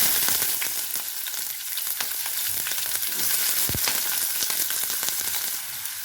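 Chopped onions and mustard seeds fry in hot oil, giving a loud, continuous sizzle with crackling pops throughout, close up and without talk.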